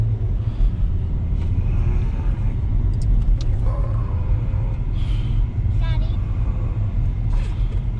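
A salvaged, repaired Audi A4 drives on the road with a loud, continuous rumble of engine and tyres and some rattles, heard from inside the car.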